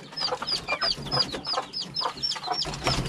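A flock of two-month-old chickens clucking and peeping close by, a busy overlapping stream of short calls in a steady rhythm, fairly loud, with no one speaking.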